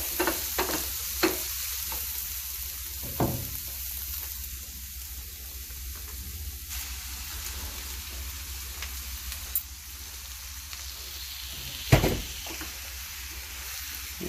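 Liver sizzling in a pot for a stew while being stirred, a steady broad frying hiss throughout with occasional sharp scrapes and clanks of the utensil against the pot, close and continuous with no talking.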